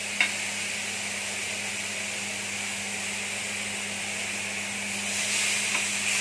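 A marinated chicken breast laid on a hot grill pan gives a steady, continuous sizzle with a constant low hum underneath, growing slightly louder toward the end, with no voices.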